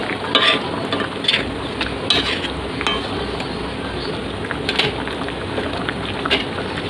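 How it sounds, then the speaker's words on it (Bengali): Snakehead fish cooking in a sour dried-mango oil-and-chilli gravy, heard as a loud continuous bubbling sizzle close by, with scattered light clinks and stirring sounds over it. "এবারে আমি মাছগুলো দিয়ে ফুটিয়ে নেব"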